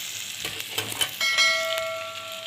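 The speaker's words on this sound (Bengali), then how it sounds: "পেঁয়াজ কাঁচা লঙ্কাটা যতক্ষণ পর্যন্ত কালারটা চেঞ্জ না হবে ততক্ষণ পর্যন্ত একটু ভেজে নেব" Onion and green chilli fry in a pan with a bright, close sizzle, broken by a few utensil knocks and a sustained metallic ring near the end.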